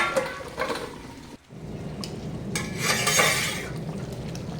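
Pointed gourd curry is stirred in a pan, giving a steady soft scraping and gentle sizzling with a few light clinks of the utensil against the pan, all fairly quiet throughout.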